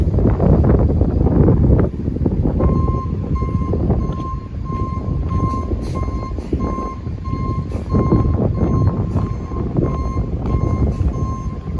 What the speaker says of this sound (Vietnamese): Buổi chiều ra đây gió mát ghê luôn các bạn.